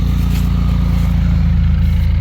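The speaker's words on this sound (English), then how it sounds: "don't mind my frickin' exhaust manifold ticking" A 1999 Dodge Neon R/T racecar engine idles close by with a steady low rumble and a rapid ticking from a leaking exhaust manifold, loud and continuous with no talking.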